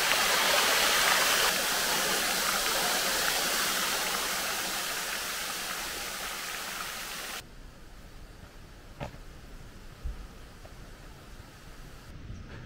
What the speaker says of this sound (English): So on our way out, we see this little stream with some more waterfalls.